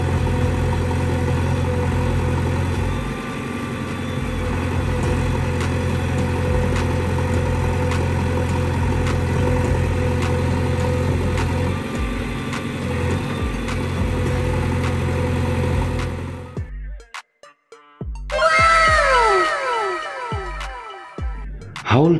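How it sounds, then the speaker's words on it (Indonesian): A backhoe loader's diesel engine runs near and loud with a steady, rumbling idle for about sixteen seconds, then drops out abruptly, followed by a few knocks and a burst of high, whining squeals. "Bakue merupakan alat berat yang memiliki dua fungsi"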